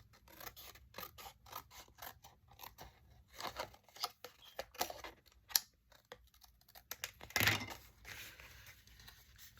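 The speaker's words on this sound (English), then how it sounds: "So let me cut this one a little bit more" Scissors snip through paper for a themed journal page, with a run of quick, close crisp cuts and light rustling in a quiet room.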